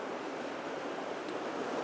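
A waterfall in a New Zealand valley gives off a continuous, dense roar of rushing water, steady and loud with no other sounds.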